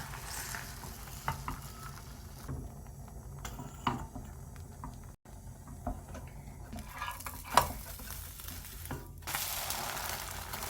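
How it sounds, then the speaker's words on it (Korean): Beaten egg frying into a thin sheet in a pan over medium-low heat, a soft, quiet sizzle with scattered light taps and scrapes of a utensil against the pan, nothing spoken. "풀어놓은 계란물을 붓고 얇게 지단을 지져줄 거예요."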